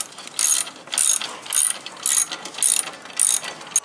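A ratchet wrench tightens a bolt on a skid plate under a VW Jetta, about seven quick, even bursts of clicking, close and clear with no talking.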